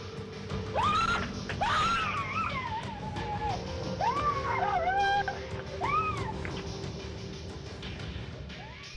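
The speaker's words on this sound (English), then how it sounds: "The woman was seen screaming" A woman screams repeatedly after being mugged at gunpoint past midnight at her apartment's front door, caught on a doorbell camera: a string of high, wavering cries and wails over a steady low hum, loud and fairly close.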